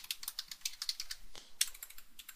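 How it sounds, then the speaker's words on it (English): Rapid keystrokes on a computer keyboard as an email and password are typed, a quick irregular clatter of crisp clicks with a short pause midway, close and fairly quiet. "going to type in my email and password like at least 50 times here"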